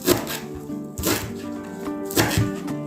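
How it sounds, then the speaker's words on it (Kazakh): A knife chops cilantro on a board in three distinct bursts about a second apart, close and fairly loud. "Енді гинзамызды турап шығамыз."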